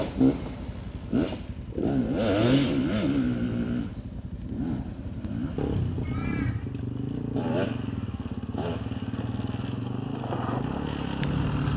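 A motorcycle rides around an outdoor practice area, its engine revving and rising and falling in pitch over steady wind noise, with a few brief rattles and clatters.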